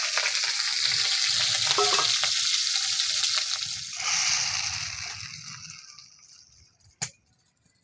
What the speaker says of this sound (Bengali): পুরনে যে পেঁয়াজ দিলাম